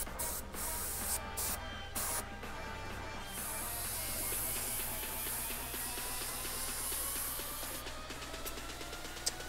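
An airbrush hisses steadily as it sprays paint onto a motorcycle windshield for lion artwork, a close, continuous pressurized spray with brief breaks as the trigger is released.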